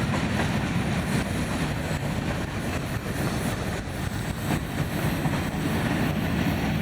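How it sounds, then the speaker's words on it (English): A Florida East Coast Railway train rolls past just outside downtown St. Augustine near the San Sebastian crossing, a steady loud rumble with faint rhythmic clatter filling the whole stretch without pause. "it's a train right here just outside of downtown St. Augustine"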